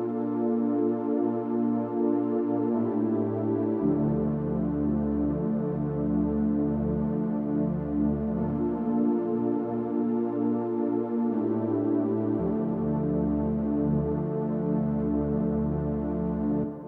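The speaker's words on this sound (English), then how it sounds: "And then I added this analog wave sound over here." Airy analog-wave synth patch from an ES2 synthesizer plays a mellow electric-piano melody in a chill Amapiano and Afrobeat beat, sustained chords over a deep bass line, steady and loud throughout with no voices.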